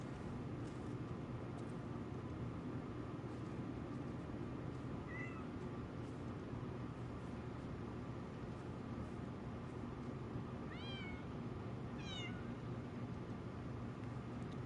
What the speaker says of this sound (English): I'm gonna keep sitting for this cat